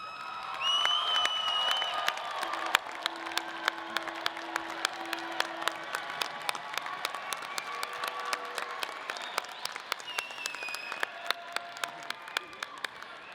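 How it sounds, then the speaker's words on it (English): Graduates at a Colorado State University College of Health and Human Sciences commencement applaud their families and friends, a steady wash of many hands clapping with scattered whoops and crowd murmur throughout. "Will the graduates please stand and give your family and friends a big round of"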